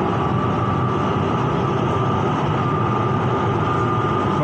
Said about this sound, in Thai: ต่อไปที่รถไฟฟ้าจะทำการจอดนี่ก็คือสถานีบางบัวนะครับ